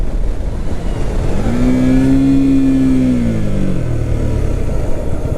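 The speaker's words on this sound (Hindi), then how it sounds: "ब्रेक नहीं टच कर रहा मैं, सिर्फ क्लच की मदद से बाइक रुकूंगा गियर डाउन करके" A motorcycle engine braking from about 80 km/h while the rider downshifts gears without touching the brakes: a steady, loud engine drone with a rising then falling whine through the middle of the clip.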